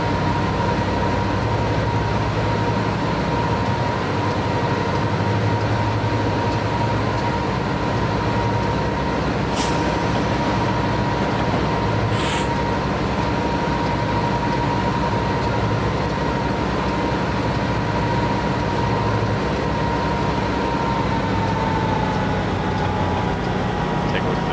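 A long freight train rolls past in the Cajon Pass setting of Train Simulator 2015, a constant loud rumble and wheel roar with a thin sustained squeal riding on top and two brief sharp clanks midway.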